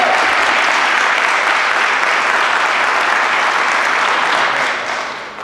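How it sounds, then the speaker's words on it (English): An audience gives a sustained round of applause, steady and full-bodied for several seconds before tapering off at the end, with no speech on top. "Let's give him one more round of applause."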